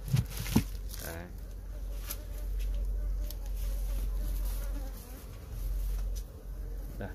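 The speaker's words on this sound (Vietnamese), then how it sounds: "Đấy, ong cực nhanh luôn." Honey bees buzz at a hive in a steady, close drone that swells and eases over several seconds, with a few knocks at the start and low background hum.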